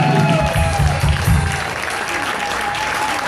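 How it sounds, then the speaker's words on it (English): An audience at a CD release party at World Cafe Live applauds, the dense clapping and crowd noise steady and loud throughout. "having a big round of applause for Super Bonanza"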